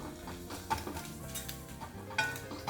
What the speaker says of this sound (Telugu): ఉల్లిపాయలు కాస్త వేగాలి ఇలా మంచిగా